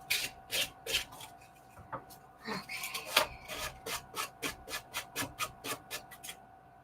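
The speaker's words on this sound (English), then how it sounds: "Now this side you want to sand down as well." A journal cover edge is sanded by hand in a steady series of rhythmic rasping strokes, close and moderately loud, with a faint hum underneath.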